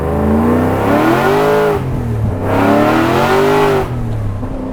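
Supercharged 900 hp Terminator Mustang Cobra engine revving hard, rising harmonic sweeps climbing and falling in two long pulls with brief dips between, loud and close with no talk.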